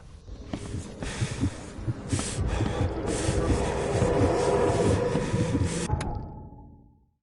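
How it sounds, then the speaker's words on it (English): Steam train in the video game The Sinking City, a loud, close rumble of wheels and chugging that builds steadily, with a hiss of steam near the end before it cuts off. "Choo-choo."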